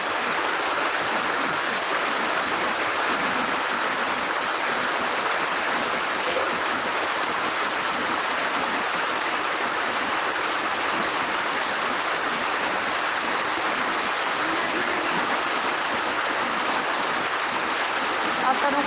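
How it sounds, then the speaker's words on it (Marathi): Steady, dense hiss of heavy monsoon-style rain pouring without a break in Pune, a continuous broadband wash with no talk over it. "आता खूप जोरात पाऊस पडतो"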